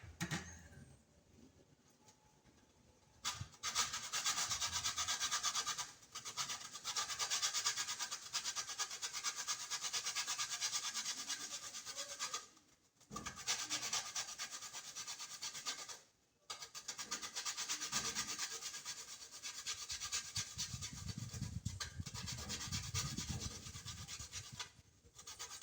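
A small piece of nutmeg is rubbed against a grater while Jamaican peanut and green banana porridge is made. The raspy scraping strokes are close and fairly quiet, with a few short pauses between bursts.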